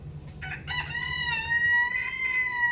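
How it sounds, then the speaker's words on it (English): A rooster crows once, loud and close, its harmonic call rising then holding steady for a couple of seconds. "And again, there's my co-star, my rooster."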